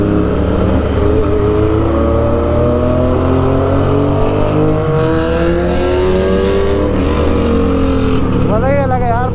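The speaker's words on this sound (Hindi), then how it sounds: "ये देखो आवाज़ देख रहे हो, फुल सिस्टम एरो" A Royal Enfield Continental GT 650 fitted with a Code 6 full-system exhaust idles loud and close with a deep rumble, then revs with rising and falling pitch sweeps toward the end.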